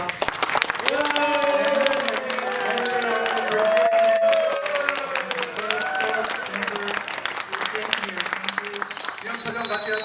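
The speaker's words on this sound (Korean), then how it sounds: "공연단께 큰 박수 부탁드립니다" Audience clapping for a performance troupe at a gathering of Bulgarian scouts in Sejong, steady and fairly loud throughout, mixed with sustained tonal voices or music and a brief high tone near the end.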